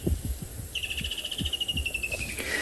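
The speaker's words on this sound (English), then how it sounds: "I'm sure you can hear a bird making a wonderful high-pitched noise" A bird on an afternoon safari in South Africa gives a long, thin, high-pitched whistling call that holds steadily for over a second over soft background rustles and low thumps.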